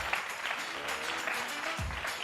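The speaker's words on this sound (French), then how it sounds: "On applaudit Hilary" A studio audience applauds a guest on a French sports talk show, steady broad clapping at moderate distance with faint voices underneath.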